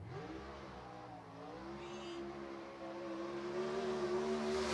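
A sprint car driven by Chris Myers, number 25, runs a lap at Screven Motorsports Complex, its engine a continuous rising and falling roar of revving and accelerating, heard at a distance.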